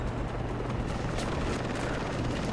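Helicopter in the video game Far Cry 3, a steady low rotor drone and rumble filling the whole stretch, loud and continuous, with no talk over it.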